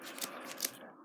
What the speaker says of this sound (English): it makes it kind of easier to get the scissors in